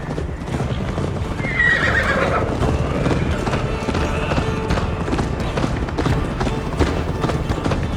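A video game horse gallops with steady clip-clop hoofbeats and lets out a loud whinny early on, with the rapid hoof rhythm continuing close and busy throughout.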